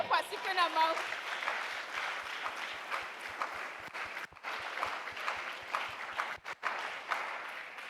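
A church congregation applauds together, a broad steady clapping that fills the room for the whole stretch with a brief lull midway, while a voice sings or calls out faintly at the start.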